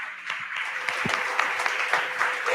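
A church congregation at a Sunday worship service claps steadily, a dense patter of many hands that keeps going without a break.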